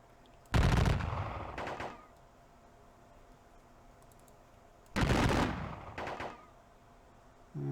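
Two loud, close volleys of massed musket fire from an American Civil War strategy game battle, each a short crackling burst with a trailing echo, separated by a few seconds of quiet.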